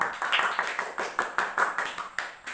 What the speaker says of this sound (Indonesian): tepuk tangan untuk Nawa